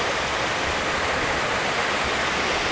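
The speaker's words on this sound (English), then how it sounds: "And there you can see the water thundering out." Waterfall water thundering out near a parking lot, a steady, dense roar of heavy falling water filling the whole time, close and loud with no break and no voices.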